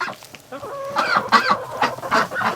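Chickens clucking and squawking agitatedly up close inside a coop on a cold night, a flurry of overlapping calls rising in loudness with no talking.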